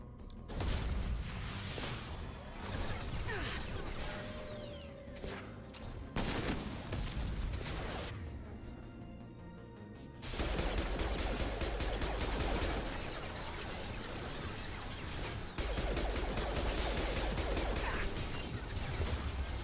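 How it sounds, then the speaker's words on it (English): Gunfire and explosive blasts from a Mass Effect Legendary Edition firefight, with a grenade detonation among loud, dense bursts of shots and crashes, a brief lull midway, then heavy sustained fire resuming. "Alright, I'll use my last grenade on it."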